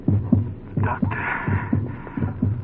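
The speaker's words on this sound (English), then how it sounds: "that's my heart beating like a drum in my ears" A heartbeat sound effect from an old radio drama pounds in steady, evenly spaced low double thuds, close and prominent, with a brief muffled noise partway through.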